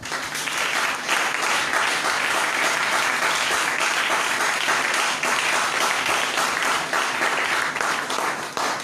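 A church congregation applauds to acclaim the Lord: loud, dense, sustained clapping from a large crowd that holds steady for the whole stretch.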